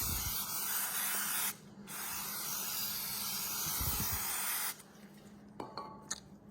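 An aerosol can of spray adhesive hisses in two long, steady bursts onto sheet metal in a taxidermy workshop, close and continuous, followed by light clinks and taps in a quiet room.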